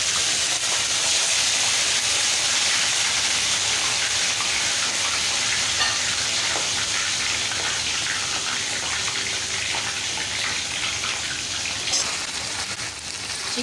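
Boneless chicken fries in hot oil with a continuous crackling sizzle, like rain on a surface, holding loud and close for the whole stretch before easing slightly near the end.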